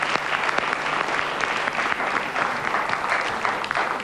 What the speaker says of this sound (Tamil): கருத்துக்கு கருத்து கைத்தட்டல் வாங்கினார்